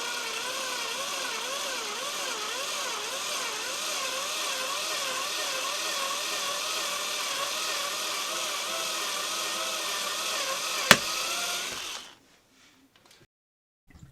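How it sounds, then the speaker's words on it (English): Power drill boring a hole through a board for a floodlight installation, a steady loud whirring drone for about twelve seconds with wavering pitch, ending in a sharp click and then near silence. "I'm going to drill a hole"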